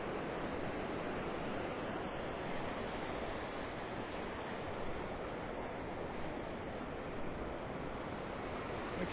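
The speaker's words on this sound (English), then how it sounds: "I am just hypnotized by these waves." Ocean surf rolls steadily onto Vanderbilt Beach in North Naples, Florida, a continuous broad wash of breaking waves at moderate distance, with no voices.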